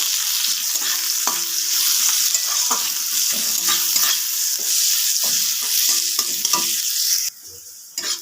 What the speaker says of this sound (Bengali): পেঁয়াজটা আমি খুব ভালো করে ভেজে নিয়েছি।